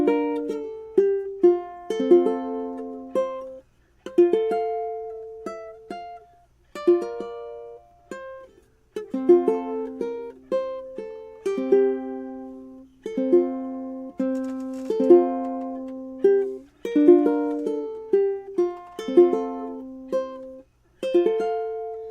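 A ukulele plays a tune as a steady run of bright plucked notes and strummed chords, each ringing briefly and decaying, with short pauses between phrases and no voices.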